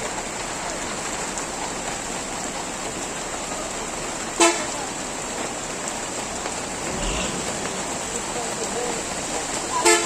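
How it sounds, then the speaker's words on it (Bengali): Heavy rain pours steadily at the central terminal in Panchagarh, a dense hiss of drops on surfaces with a sharp knock midway and faint vehicle sounds underneath. "দেখেন বৃষ্টির স্পিড কত"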